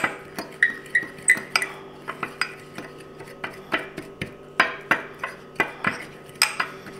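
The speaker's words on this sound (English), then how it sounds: "we're just going to go ahead and mix this up really well" A fork mixing chicken seasoning with onion powder in a dish, rapid rhythmic clinks and scrapes against the bowl repeating steadily at close range, with a faint steady hum underneath.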